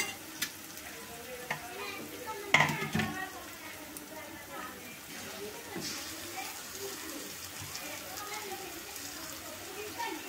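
Tomato pieces tumble into golden fried onions in a pan and get stirred, a thump followed by moist sizzling and scraping, with a person talking faintly underneath.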